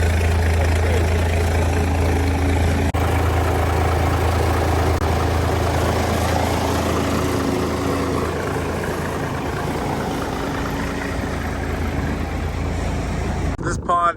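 A heavy 6x6 military truck engine idles with a steady low rumble for the whole stretch, loud and close, with a brief clatter near the end.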